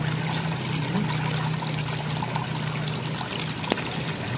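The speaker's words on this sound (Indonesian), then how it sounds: "Ya beginilah suasananya kalau sambil hujan-hujanan ya." Steady rain pours down by a river during eel fishing, a continuous broadband hiss of falling water with a faint low hum underneath and one brief sharp knock near the end; no talking.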